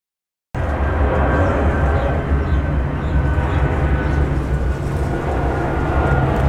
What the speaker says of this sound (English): I guess some planes are still flying.